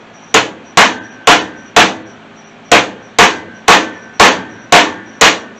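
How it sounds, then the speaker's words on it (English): A hammer strikes a big socket to drive a part onto a Cummins vacuum pump: ten crisp metallic taps at an even pace, in a group of four, a short pause, then six more, close by with no talk. "I'm going to take my hammer and just try to tap her on in"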